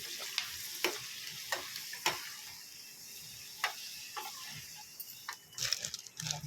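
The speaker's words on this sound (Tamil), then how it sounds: "எண்ணெய் நல்லா காஞ்சதும் நம்மளோட கொத்தரக்காய் வத்தலை போட்டு பொறிச்சு" Sun-dried cluster bean vathal frying in hot oil, a soft steady sizzle broken by a series of sharp clicks and taps from a spoon against the pan, busier stirring near the end, no speech.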